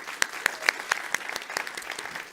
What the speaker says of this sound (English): So please give them a warm round of applause.